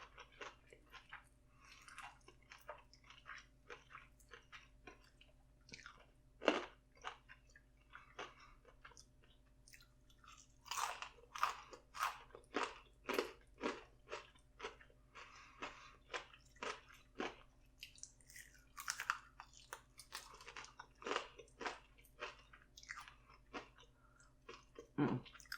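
Close, quiet chewing of chicken legs, with wet smacks and bites coming in irregular bursts over a faint steady hum, no talking.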